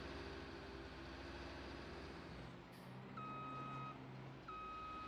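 A Farming Simulator 19 vehicle gives reverse warning beeps, steady, clear electronic tones repeating over a low engine drone, heard alone and fairly close.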